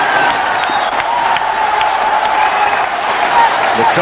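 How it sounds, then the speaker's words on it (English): A cricket crowd at a 2004 Pakistan one-day international cheers and applauds after Shahid Afridi hits a six. A broad, steady roar of clapping and voices fills the stadium throughout. "The crowds are overjoyed."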